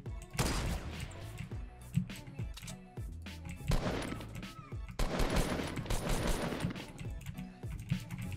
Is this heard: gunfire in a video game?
yes